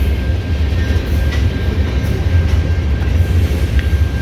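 Loud, continuous rumble of a train rolling past the Great Northern Railway depot in downtown Fargo, heavy low roar with a faint steady whine and occasional light clicks, no voices.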